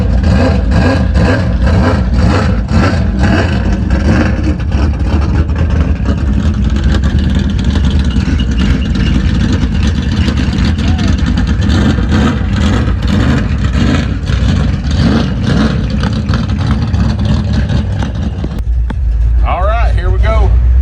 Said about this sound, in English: Two dirt track cars leaving the show.